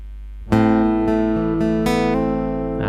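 An acoustic or electric guitar rings out the intro riff of a song, a few plucked notes and quick hammered-on notes over a sustained low tone, close and clear.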